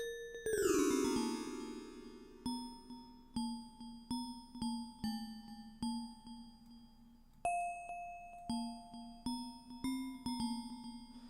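Bells in a mix of a Christmas song: a bright ringing strike that decays, then a steady sequence of clear chime notes ringing out one after another.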